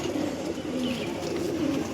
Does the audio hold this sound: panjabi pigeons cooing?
yes